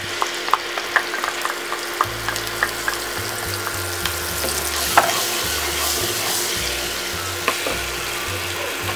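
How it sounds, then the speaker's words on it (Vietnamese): Tamarind sauce is poured into hot oil with fried garlic for a tamarind stir-fry of duck eggs. It sizzles and crackles steadily and close by, with faint stirring clicks throughout. "các bạn sẽ cho cái phần nước cốt me vào"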